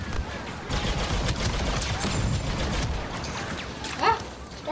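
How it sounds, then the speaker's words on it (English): Sustained volleys of video game gunfire from droid enemies aimed at the player, dense and loud for several seconds, with a sharper burst near the end. "Stop shooting me in the back, please."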